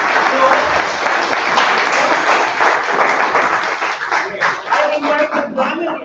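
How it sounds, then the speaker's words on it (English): Attendees at a joint club meeting burst into dense applause that fills the room, then thins into scattered claps as voices start to come through. "everybody has to clap once again"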